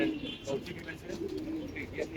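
Soft pigeon coos repeat at moderate distance, mixed with faint chirps and some background voices.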